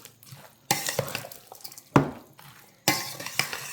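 A spoon works through a cabbage roll casserole mixture of seasoned filling and cabbage in a bowl, producing wet, uneven stirring scrapes and clinks in a few separate bursts.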